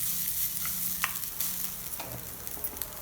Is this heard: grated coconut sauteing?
yes